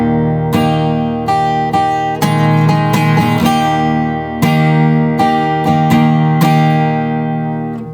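Acoustic guitar strumming the intro line of a song in a down, down, up, up, down, down pattern, loud close chords with sharp strokes ringing over sustained notes.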